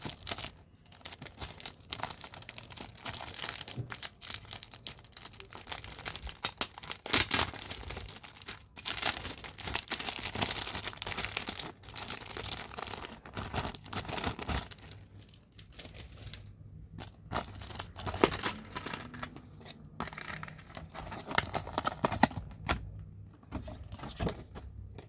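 Louis Vuitton packaging being unwrapped, with sustained paper crinkling and tearing rustles of varying loudness throughout, close and continuous, no talking.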